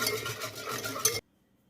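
A spoon stirs spices, tomato paste, pepper paste, white vinegar and oil together in a bowl, scraping and clinking for about a second before it stops abruptly into silence.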